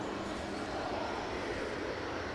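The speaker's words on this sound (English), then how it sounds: "British Airways next in from Heathrow." A British Airways Airbus A320 airliner arriving from Heathrow at Edinburgh Airport, a steady broadband jet roar at moderate distance that holds constant throughout.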